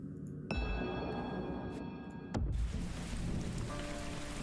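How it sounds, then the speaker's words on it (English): Steady rain pours in a card battle puzzle game, a dense continuous hiss with two sharp drip-like hits early and midway, no voices. "It's raining."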